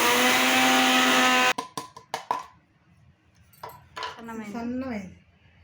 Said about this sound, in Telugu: వీటిని ఇప్పుడు మిక్సీ వేసుకున్నాం